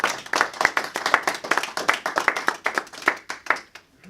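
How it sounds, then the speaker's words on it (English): Applause and clapping from an audience greeting guests at a members' meeting, a steady patter of many hands close by that thins toward the end. "Round of applause for all our guests, please."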